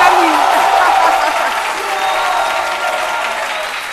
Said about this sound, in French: nous applaudissons aussi très fort pour notre public habituel